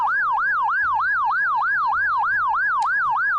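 A police siren in a video game wails in a rapid, regular up-and-down yelp pattern, loud and close, repeating about ten cycles without interruption.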